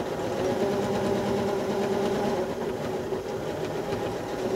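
A new model 8900 sewing machine runs steadily while quilting a flame stitch, giving a close, even, continuous mechanical hum and rapid needle rattle with no talk over it.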